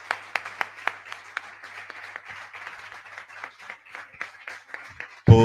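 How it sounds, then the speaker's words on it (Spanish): An audience at a hospital scientific conference applauds doctors: a few sharp, separate claps at first, then a softer, thinner round of clapping that fades, ending in a sudden loud noise. "aplausos para los doctores"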